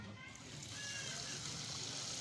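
Water pours and splashes steadily as it drains from boiled biryani rice, a continuous close rushing sound with no clear talking over it.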